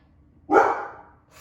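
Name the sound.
dog barking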